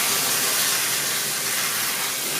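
Tap water runs steadily while hair extensions are rinsed, a continuous close hiss of flowing water with no break or voice over it.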